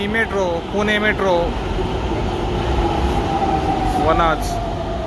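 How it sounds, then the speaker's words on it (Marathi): Pune Metro train running, a steady loud rumble and hum of the moving carriage filling the whole clip, with people talking over it at several points. "he metro Pune metro"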